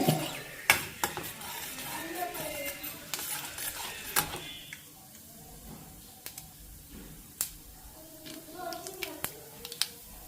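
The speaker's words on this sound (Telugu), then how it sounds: "పోపు టపా టప్ టపా సౌండ్ వస్తుంది కదా ఆవాలు పేలుతున్నాయి" Mustard seeds pop and crackle sharply in hot oil, irregular snaps over a soft sizzle, with someone talking faintly in the background.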